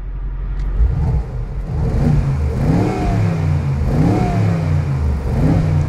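A 2020 Mercedes G63 engine with its exhaust valves open revs repeatedly, loud rising and falling pulls heard close and clear without talk.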